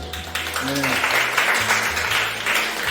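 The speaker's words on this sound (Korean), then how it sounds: "바리스타 선배님들 위해서 박수 한번 주시고 크게." Middle school students at a barista training session clap for their senior barista students, a loud burst of applause mixed with voices and some low rumbling noise.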